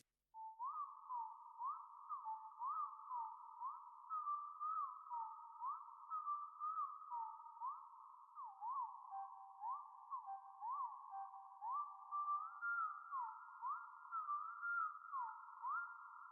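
A bright, thin synth lead plays a fast, bouncing melody of short repeated notes in a narrow high-mid range, steady and alone throughout.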